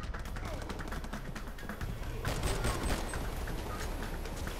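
Gunfire from R.I.P.D.: The Game, a steady run of rapid shots layered over a dense game soundscape, with someone talking over much of it.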